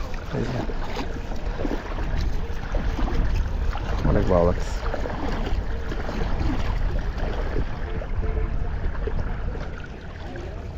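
A small boat out on open water at sunrise, with steady rushing wind and water noise throughout and someone speaking briefly over it.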